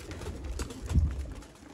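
Champion flying pigeons kept by a breeder coo in low, soft bursts, rising to a fuller throaty coo near the middle, close by against a steady low murmur.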